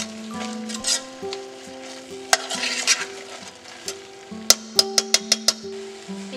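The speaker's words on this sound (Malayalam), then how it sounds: "നന്നായിട്ടൊന്ന് മിക്സ് ചെയ്യാം" Beans being stirred into a hot cooking pan for a bean soup, with soft scraping and sizzling under a sustained hum, then a quick run of sharp metallic taps from a spoon against the pan near the end.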